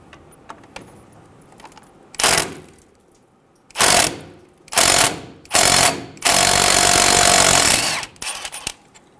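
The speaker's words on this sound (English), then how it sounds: "Using a 10 millimeter socket, remove the bolt for the ABS bracket." Power tool whirring on a bolt holding the ABS bracket of a 2005-2015 Toyota Tacoma front brake, with a 10 millimeter socket: several loud short bursts, then one long sustained run, with clinking metal handling between them.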